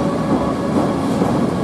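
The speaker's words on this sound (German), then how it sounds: "da hinten fädelt sich derweil noch ein Zug ein." Train pulling into Kufstein station, a steady, close rumble of rail wheels and carriages rolling continuously at constant loudness, with no voices present.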